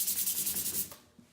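Rhythmic rubbing strokes of sandpaper along wooden furniture with the grain, a quick series of close, steady scratchy passes that stop abruptly.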